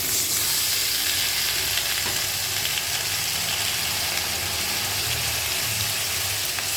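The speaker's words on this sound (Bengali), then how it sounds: "আমি এখানে কেটে রেখেছি পুঁই শাক কুমড়ো আলু আর বেগুন এটা এবার এই তেলের মধ্যে দিয়ে দেব" Malabar spinach, pumpkin, potato and eggplant frying in hot oil rendered from katla fish, giving a steady, dense sizzle that runs unbroken and fairly loud the whole time, with no voices.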